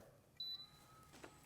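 Vacuum sealer giving a single short, high electronic beep as start is pressed, quiet and close, followed by a faint click.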